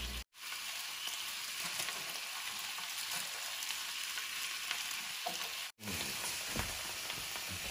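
Steady crackling sizzle of food frying in a hot frying pan, continuous and close, with a couple of brief dropouts, while cooking stuffed bell peppers.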